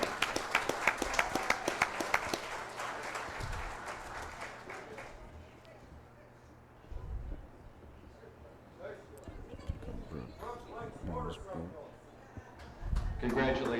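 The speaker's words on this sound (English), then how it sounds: "Listen to that cheering section." A crowd at a drag racing awards banquet claps in a burst of applause that tapers off, followed by scattered voices and background chatter, with an announcer talking over the room.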